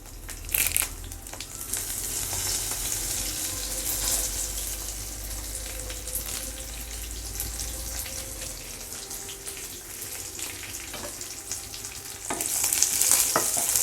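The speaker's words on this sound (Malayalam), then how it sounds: "അതിനോടൊപ്പം കറിവേപ്പിലയും കൂടി ഇടാം." Curry leaves and halved dried red chillies sizzle hard in hot oil for a Kerala-style pineapple pachadi, a loud, steady, close frying hiss with crackles that swells near the end, no voices.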